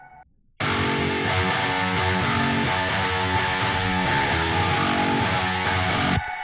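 A lead part from a metal mix of ERRA's Scorpion Hymn, run through a fully wet reverb with the low end cut, swells into a dense, sustained, distorted wash after a brief quiet start and holds loud for about six seconds.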